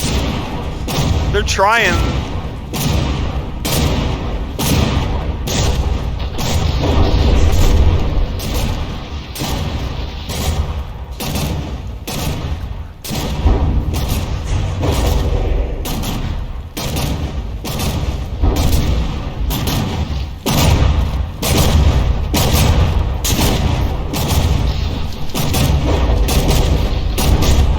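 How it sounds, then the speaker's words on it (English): A battleship's mortar gun in the game From the Depths fires small shells, a steady stream of rapid, loud thumps and booms through the whole stretch, while a voice talks over it now and then. "This mortar gun is just spewing little tiny itty bitty mortar shells up that aren't even getting like 100 meters away from the ship"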